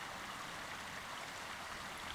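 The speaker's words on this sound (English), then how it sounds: "a little river here, so you're going to hear that the whole time" A small river flows steadily nearby in a quiet rural spot on the Isle, a continuous soft rushing wash of water with no other sounds.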